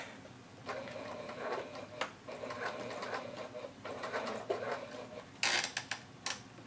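A sewing machine topstitches a tote bag in short bursts of steady whirring, with small clicks and a few sharper clatters near the end; close and fairly quiet, no talking.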